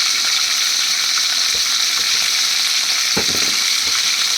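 Potato pieces and drumsticks frying in hot oil give a continuous loud sizzle, with a few stirring knocks and bursts of crackle near the pan.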